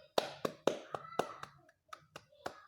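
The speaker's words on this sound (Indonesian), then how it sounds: "kalau begitu tepuk tangan buat Pak Budi semuanya." A small group claps during a group activity therapy session, a sparse, uneven run of separate hand claps that trails off into a few scattered final claps.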